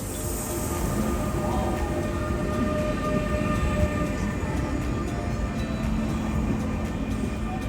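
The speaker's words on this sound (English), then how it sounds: "About 10 minutes before departure, our train pulls in." A DSB IR4 intercity train pulls into a large station with arched roofs over many tracks, making a steady, loud rumble and rolling roar throughout, with no voices.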